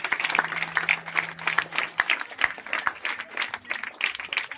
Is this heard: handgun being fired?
no